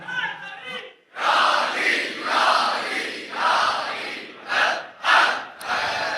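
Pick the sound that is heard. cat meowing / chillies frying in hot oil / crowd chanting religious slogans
crowd chanting religious slogans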